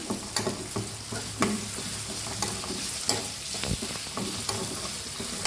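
Green chilies, mint, bay leaf and onion fry in a hot pan, giving a dense continuous sizzle broken by sharp clicks and scrapes of a stirring spoon. The sound is close, with no talking.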